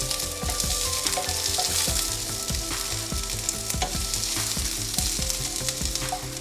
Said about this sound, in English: I'm going to add the onions. And just saute them.